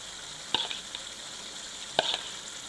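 A faint, steady sizzle of masala in a chicken karahi runs throughout, broken by two sharp spoon clinks as yogurt is added, with no talking.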